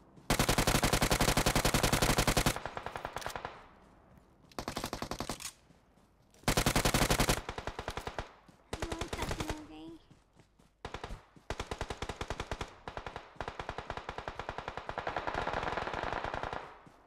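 Rapid automatic gunfire from the mobile battle-royale game PUBG Mobile crackles loudly in repeated long bursts separated by short gaps, with shorter volleys later on; no voices come through.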